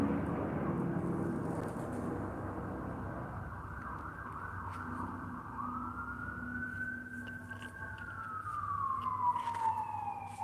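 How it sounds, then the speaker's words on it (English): An ambulance siren passes by outdoors, its wailing tone rising and then sweeping down as it goes, loud and steady over low traffic rumble for about ten seconds. "Sorry, ambulance also."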